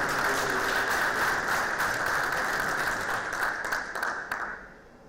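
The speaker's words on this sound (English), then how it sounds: "Please give a round of applause" Sustained audience applause after a panel discussion on Kuwait's digital economy, many hands clapping evenly before thinning out and dying away over the final second.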